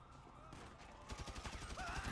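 Gunfire in the GTA 5 video game, a rapid series of shots becoming denser and louder in the second half, mixed with other game sounds.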